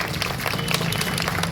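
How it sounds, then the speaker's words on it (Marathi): Audience at a Sant Tukaram Maharaj Beej community event in Mehrun applauding: steady, dense clapping from a crowd, moderately loud and continuous throughout. "जोरदार टाळ्या वाजवा तुम्ही"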